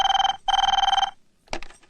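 A telephone bell rings in two fast trilling bursts, loud and close, followed by a sharp clatter as the handset is picked up.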